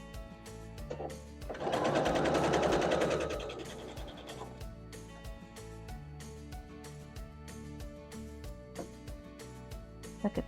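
Sewing machine stitching the snowballed top corners of a large acorn quilt block on dark background fabric, a loud steady whir for about two seconds, then quieter intermittent machine hum with a hint of rhythmic clatter.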